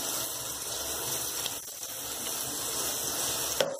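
Liquid pours steadily into a bucket of homemade liquid soap, making a continuous close gushing rush that ends abruptly.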